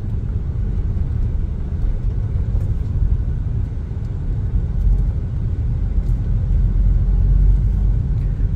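A Suzuki Evalia fitted with a Blackcore part runs with a loud, steady low rumble throughout, the engine droning close by with no clear revving peaks or gear changes.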